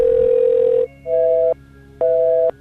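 A telephone calling tone heard while a call is placed: one long steady tone, then two shorter even beeps separated by brief silences, clear and close with no voices.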